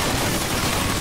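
Dense, continuous gunfire rattles without pause in a Call of Duty Ghosts firefight, loud and close like a sustained burst of automatic weapons.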